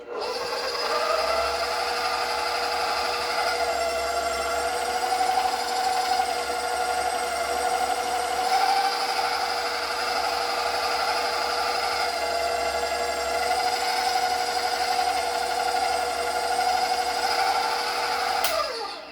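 A stand mixer with its pasta roller attachment runs at a steady, continuous hum and whir while homemade pasta dough passes through the rollers, close and fairly loud with a whiny tonal drone throughout.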